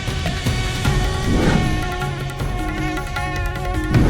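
Mosquitoes buzzing, a continuous high whining drone that wavers slightly in pitch, close and steady throughout, with faint swells of background sound underneath.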